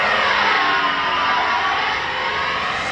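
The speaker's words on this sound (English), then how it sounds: "that is about 2/3 throttle on a 2 kW electric motor" A model aircraft propeller spun by a 2 kW electric motor at about two-thirds throttle in a turbulent, uneven inflow gives a steady, loud, broadband whirring roar, unbroken for about three seconds.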